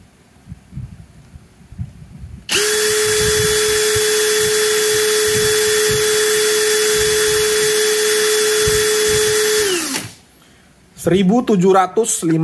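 A Ronix 8900K cordless brushless drill whirs steadily at its second speed setting with a constant high motor whine for about seven seconds, then spins down, and a voice follows.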